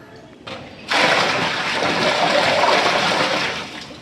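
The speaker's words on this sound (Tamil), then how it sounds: "இப்போ வந்து உலகி தண்ணி ஊற்றிட்டு இருக்கோம்" After a brief quiet start, water gushes loudly and steadily as it is poured from a jug into a large cooking pot for biryani, holding strong for several seconds before easing.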